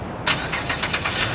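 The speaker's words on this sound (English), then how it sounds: "remote start cranks right up." A 2010 Chevrolet Camaro V6 is started by remote: a sharp burst of cranking catches and settles into a steady, close idle with rhythmic pulses, and no one talks.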